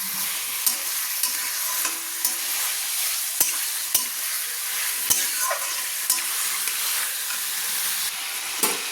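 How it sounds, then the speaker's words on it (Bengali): Marinated chicken frying on a medium flame for a Dhone Pata chicken curry, with a steady sizzle throughout and sharp scraping clicks from a spatula stirring the pan at irregular intervals. "ম্যারিনেট করা চিকেনটা দিয়ে কিন্তু আমি প্রায় 2-3 মিনিট মতো আমি কিন্তু মাঝারি ফ্লেমে চিকেনগুলো নেড়ে নিচ্ছি।"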